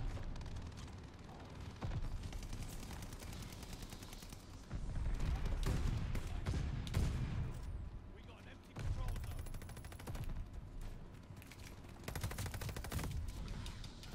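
Repeated bursts of NZ-41 rifle fire in the World War II shooter Call of Duty: Vanguard, coming in rapid volleys separated by short pauses, with a player's voice talking over some of the shooting.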